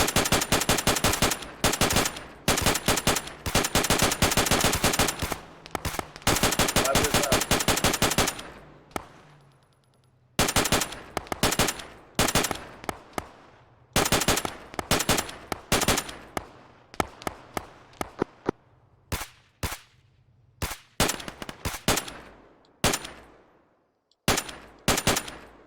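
Automatic machine gun fire in a military video game, loud rapid bursts clustered in the first eight seconds, then shorter separated bursts and single cracks with brief silences between them.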